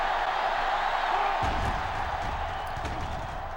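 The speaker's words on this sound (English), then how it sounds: "Crowd again going crazy." A stadium crowd roars during an NCAA Football 06 college football game, a steady, broad wash of cheering with a low thump partway through, and no one talking.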